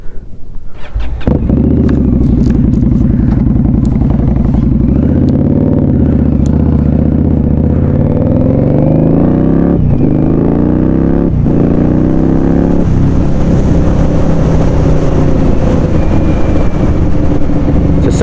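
An Indian Scout Bobber motorcycle rides out on twisty country roads, its engine a loud, close, continuous rumble that climbs and drops through gear changes, with steady wind noise and no talk.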